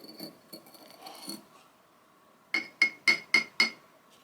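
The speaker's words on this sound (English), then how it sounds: "put them in this mortar and pestle, and smash them into a powder" Pieces of orange aventurine-colored glass being crushed into powder in a mortar and pestle, first softer scraping grinds, then a quiet pause and five sharp, ringing clinks struck in a steady rhythm, close and clear with no talking.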